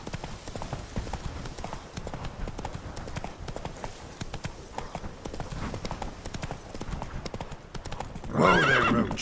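Roach the horse in The Witcher 3, a steady near clip-clop of hooves at a trot ending in a loud whinny, with no talk.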